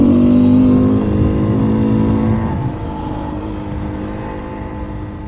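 An off-road motorcycle revving in second gear on a Colorado OHV trail, a loud close engine that pulls hard, then drops back to a lower, steadier drone.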